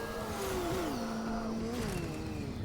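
A car drives through a city in the Fortnite video game, its steady engine hum shifting pitch a few times as it accelerates and eases off, continuous and fairly close throughout.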